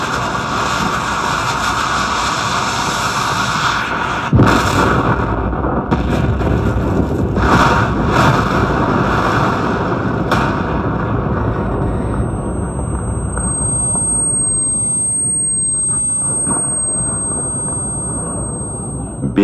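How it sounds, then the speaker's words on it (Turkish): A staged 1915 trench mine explosion in a reenactment area at the Alçıtepe museum in Çanakkale makes a loud, sustained rumbling roar that swells and then fades into a ringing tone, with narration in Turkish over it. "Lağım karşı siperde öyle bir patladı ki toprak minare boyu kalktı."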